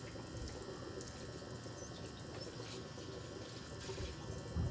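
Water runs steadily from a portable 20-litre camping shower bag, a soft continuous hiss and trickle at low level with faint mechanical clicks and a small bump near the end.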